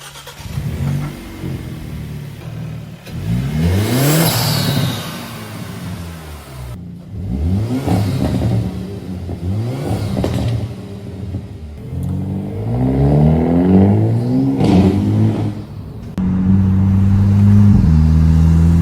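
A Hyundai Elantra N with a DIY 4-inch intake revs repeatedly, each blip rising and falling in pitch, close and loud, ending in a sustained higher rev hold; no talking.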